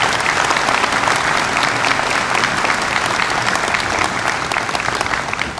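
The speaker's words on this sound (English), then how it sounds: "How about a hand of applause for all these great American warriors?" A crowd aboard the aircraft carrier USS Harry S. Truman, CVN 75, at a change of command ceremony, bursts into sustained, dense applause, many hands clapping loudly and steadily throughout with no break.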